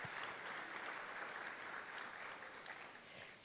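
Applause from the audience at a plenary conference session, a soft, distant, steady patter of many hands clapping, fading slightly toward the end.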